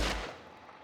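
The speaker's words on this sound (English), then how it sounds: "Can I shoot the sign?" A single loud gunshot in The Last of Us Part I, a sharp blast at the very start that rings out and decays over the following half second, heard alone.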